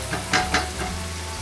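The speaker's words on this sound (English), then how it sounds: "we'll do a fast little mix with our beef" Beef sizzles and crackles in a hot pan, with two quick scraping stirs of a spatula near the start, then a steady, close frying hiss.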